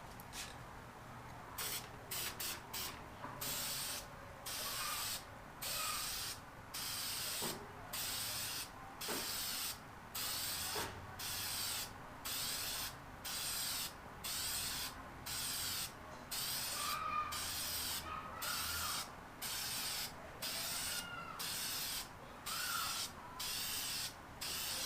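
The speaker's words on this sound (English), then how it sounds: "spray your first coat of primer" Rhythmic bursts of aerosol primer from a spray can coating a Honda engine block, a steady series of short hissing sprays with brief pauses between them, close and fairly loud, with no talking.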